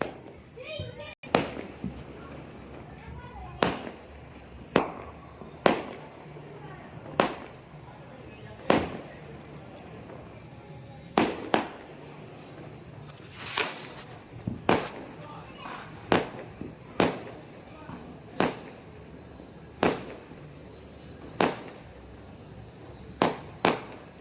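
Sivakasi firecrackers burst one after another in sharp, loud bangs at irregular intervals, with children's voices faintly in the background.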